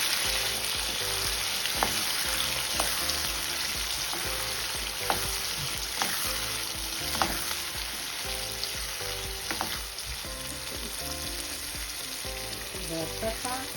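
Onion and tomato fry in a pan, giving a steady, close sizzle and crackle with scattered pops and light clicks of a utensil throughout.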